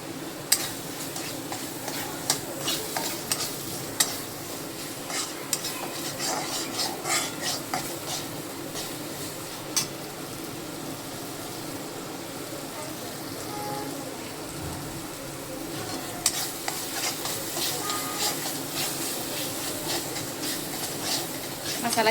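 Ground spice masala for a paneer curry frying in a pan, a steady sizzle with repeated stirring and occasional clinks of a spoon on metal, close and continuous.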